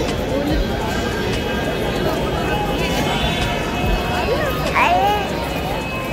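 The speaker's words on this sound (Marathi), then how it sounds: "आज रविवार असल्या कारणानं गर्दी आहे." A bustling Sunday crowd at the Gateway of India in Mumbai, with a steady babble of many voices and movement under it, and occasional louder calls close by.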